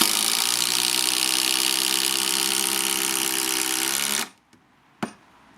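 Several power drills, including Makita, whine together at their highest speed while driving screws for about four seconds, then cut out abruptly, followed by a couple of brief clicks and knocks.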